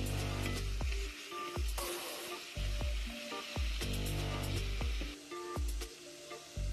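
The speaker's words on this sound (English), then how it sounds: "Go ahead and stir fry them for another 2 minutes to get them all sweaty and ready for the" Carrots and other vegetables are stir-fried in a hot pan for vegan ackee, giving a continuous loud sizzle broken by repeated knocks and scrapes of the utensil against the pan.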